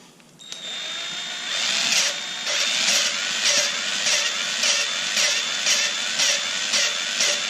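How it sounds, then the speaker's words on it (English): A small 20-volt cordless driver runs at low speed with the trigger barely pressed, used while working on small-block Chevy cylinder heads, giving a steady close whine with a rhythmic pulsing whir through the clip. "I'm giving it about 1/8 of an inch of travel on the trigger on this little 20-volt-hour driver"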